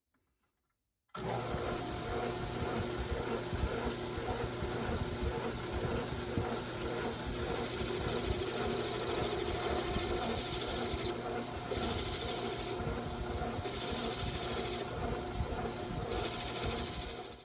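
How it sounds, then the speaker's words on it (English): Benchtop lathe taking a parting-tool cut to thread depth, a steady whirring, rattling machine drone that runs unbroken and close after a brief silent start, with no talk. "So I'm just going to use this parting tool. I'm going to go 36 thousandths in because that's my thread depth."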